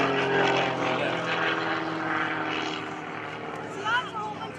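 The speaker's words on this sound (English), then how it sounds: "I see the bottom side of the aircraft with that hammerhead turnaround." Propeller aerobatic airplane performing a hammerhead turn at an airshow, its engine droning steadily and shifting in pitch as it maneuvers overhead, with a commentator talking over it.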